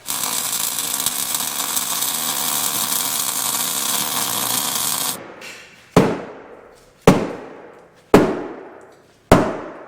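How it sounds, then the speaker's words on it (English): Five sharp, ringing hammer blows on metal during a Jeep build, struck left-handed about a second apart after a stretch of steady tool noise, each hit clear and close with a quick decay. "left-handed hammering. It's not easy"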